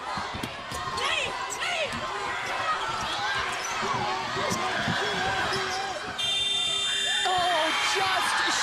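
A buzzer sounds at the end of a Seattle U basketball game, a sustained electronic tone that starts late and runs to the end over loud crowd noise, court sounds and an announcer talking.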